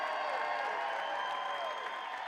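Sustained crowd cheering and applause at a US sumo open heavyweight competition, a dense, even roar of voices and clapping from a large audience heard at a steady level throughout.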